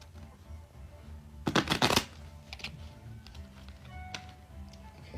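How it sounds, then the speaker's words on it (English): A deck of tarot cards is riffle-shuffled in one quick, close burst lasting about half a second, followed by softer card taps and handling noises. "I'm gonna shuffle one more time."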